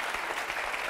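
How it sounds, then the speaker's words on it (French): Dense, continuous audience applause during a French comedy show, loud and steady throughout a short burst with no clear pauses. "On applaudit très, très fort"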